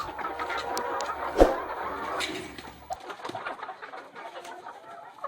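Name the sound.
laying hens clucking on a poultry farm in Kenya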